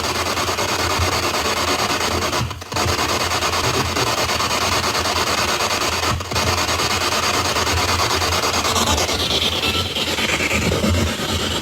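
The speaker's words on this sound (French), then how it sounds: "Allez, on retente une fois la Spirit Box." Spirit Box radio sweeping through stations, producing harsh, continuous static hiss and crackle with brief dropouts, loud and steady throughout with no voices heard.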